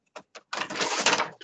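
A printer whirs into action after a couple of short mechanical clicks, running steadily for about a second before stopping.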